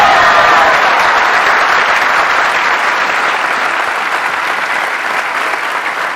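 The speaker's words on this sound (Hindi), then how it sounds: "हर बार हम लोग स्टेज पे आते हैं, हमारे लिए तालियां बजाते हैं यार।" An audience applauds speakers on stage with loud, sustained clapping from a large crowd that tapers slightly toward the end, with no talking over it.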